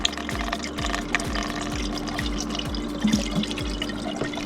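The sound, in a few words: coolant being poured into a 2009 Jeep Patriot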